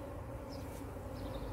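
Honey bees fly around an open hive during feeding, a dense, steady, faint buzzing drone of many insects with no voices.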